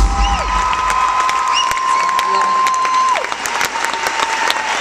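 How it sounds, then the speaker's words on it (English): A crowd at a SXSW music show claps and cheers loudly, with shrill whistles rising above the steady applause. "please give a huge round of applause"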